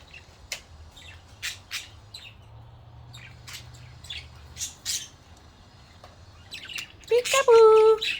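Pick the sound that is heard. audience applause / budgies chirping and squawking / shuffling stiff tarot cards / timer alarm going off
budgies chirping and squawking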